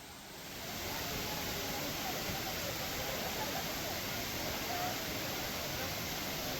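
Water pours down Areekkal waterfall in Kerala as a steady, even rushing hiss that swells in at the start and then holds constant and fairly loud.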